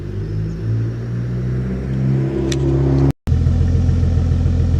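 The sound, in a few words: Toyota Supra engine running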